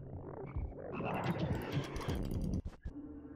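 Frog croaking in a puzzle video game, a dense run of loud croaks filling most of the moment before a brief gap and a few more calls at the end.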